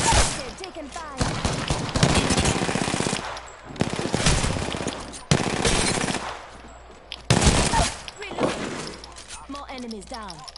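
Rapid automatic gunfire in an Apex Legends-style battle royale shooter, several loud bursts separated by brief gaps, mixed with in-game announcer voices and player chatter.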